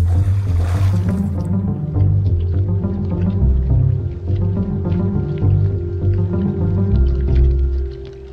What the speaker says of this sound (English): the frog gave a smile before diving under the water.